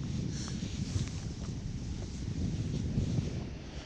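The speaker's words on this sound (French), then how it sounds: "Tu vois le vent s'élever, hein, les nuages bougent maintenant." Rising wind outdoors on Lake Geneva during a fishing trip, a steady rumbling gust buffeting close and moderately loud throughout, with faint water sounds beneath.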